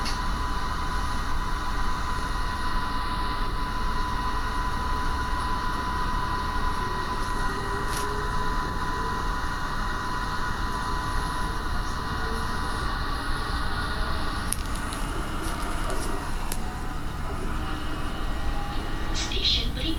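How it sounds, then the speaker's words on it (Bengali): Underground metro train in Malaysia pulling out of a station, a steady loud rumble and hum of the carriages running throughout, with a faint chime and some voices in the background. "আবার ট্রেন আবার ছাড়লো, এই স্টেশনে পার হলাম এই।"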